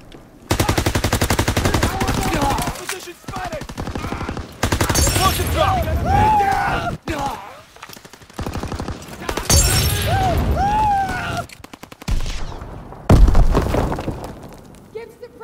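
Rapid machine-gun bursts and shattering impacts in a Call of Duty: WWII battle, loud and dense, broken by brief pauses, with shouted voice lines over the firefight.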